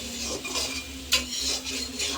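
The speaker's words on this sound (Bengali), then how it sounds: "এদিকে আলুটা ভাজা হচ্ছে" Potatoes fry in a pan as a utensil stirs them, giving a steady sizzle with scraping strokes and one sharp clink, close up and without talk.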